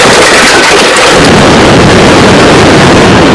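Heavy thunderstorm from Storm Harry sweeping the Mediterranean, with a deep rolling thunder rumble giving way to loud, dense rain and wind roar that fills the whole stretch.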